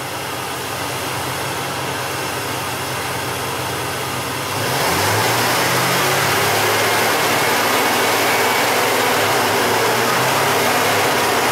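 A Chevrolet/GMC engine with a rough-running, lean misfire condition idles steadily, then rises in pitch and loudness around the midpoint as throttle is applied, holding a higher, louder drone to the end.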